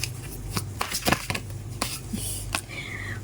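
Tarot cards being handled and drawn from a deck, with quick papery flicks, slides and soft taps in a short close-up burst, over a low background hum.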